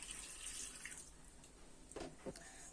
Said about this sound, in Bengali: সবজিগুলো সিদ্ধ করার জন্য জল দিয়ে দিব।